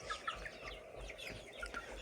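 Chickens, including young chicks, cluck in short, scattered bursts close by in a farmyard, with a few higher chirpy notes over a low background rumble.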